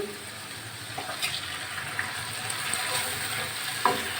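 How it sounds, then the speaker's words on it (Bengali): Steady frying sizzle of ground spice paste and potatoes in a pan with occasional stirring scrapes and clinks, continuous and close, no talking. "আমি আলুর সঙ্গে ভালো করে মশলাটা কষিয়ে নেব"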